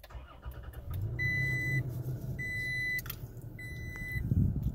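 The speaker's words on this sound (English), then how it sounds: "Engine start, press brake pedal and push engine switch." A 2019 Toyota Tacoma TRD Off-Road 4x4 starts by push button: three clear electronic beeps sound at regular intervals over a low, steady engine rumble inside the cab.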